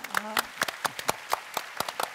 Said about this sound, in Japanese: 両チームに盛大な拍手をお願いいたします